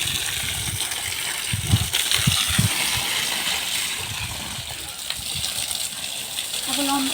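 Water gushes steadily onto soil in a continuous close splashing stream, with a few irregular lower thuds and sloshes mixed in, and a voice speaks near the end.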